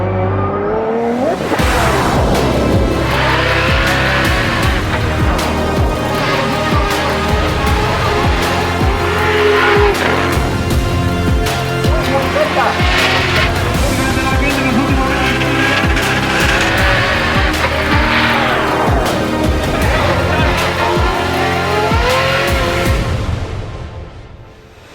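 Drift cars at a Drift Masters 2025 round in Spain race past with loud, continuous engine roar, rising revs and long tire squeals, sustained and close throughout before fading at the end.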